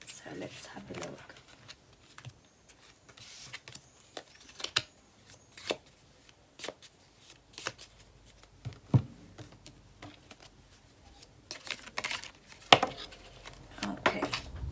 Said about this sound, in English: So we will shuffle some oracle cards